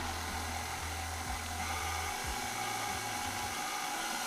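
Electric mixer running steadily through sweet potato pound cake batter, a continuous low motor hum with a faint buzzing whine, fairly quiet and unbroken by speech.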